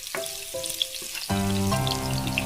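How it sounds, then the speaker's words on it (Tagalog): Chopped garlic drops into hot oil and sizzles, starting with a few soft pops and then flaring into a loud, steady frying hiss once it settles in the pan. "Igisa na natin."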